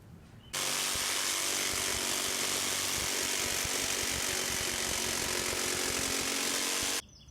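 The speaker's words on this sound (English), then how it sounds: "So now I'm going to use a jigsaw to cut out these templates." A jigsaw cuts out templates during an exterior stucco repair, giving one loud, continuous buzzing run of about six seconds that starts and stops abruptly, with no talking.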